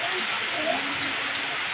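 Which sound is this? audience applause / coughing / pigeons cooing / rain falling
rain falling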